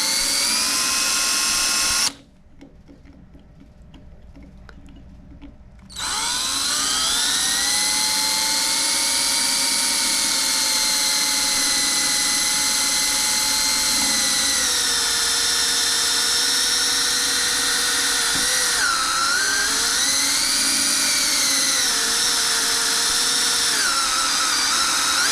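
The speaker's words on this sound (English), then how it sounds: "because this is a soft tip bullet, it's a lead tip bullet, we should be able to drill it right pretty close to the center" A power drill whines steadily while boring out a lead soft-tip bullet stuck in the barrel of a Smith & Wesson 686 revolver, loud and close, with a short drop in level early on before the sustained grinding drone resumes.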